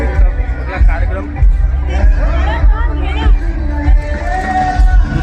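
Dense crowd hubbub at the Agri Mahotsav festival in Badlapur, a loud, close babble of many overlapping voices with a nearby speaker talking over it.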